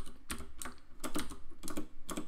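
Quick taps on a computer keyboard, close and quiet, a fast uneven patter of keystrokes in small clusters with no voice.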